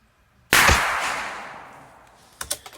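A single sharp gunshot from a Cricket 6061 rifle rings out close and loud, its report decaying over nearly two seconds, followed by a few quick metallic clicks and clanks, no speech.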